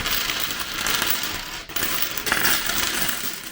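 A stack of £1 coins is handled and shuffled, giving a dense, continuous metallic clinking and rattling close up, with one brief pause midway and no speech.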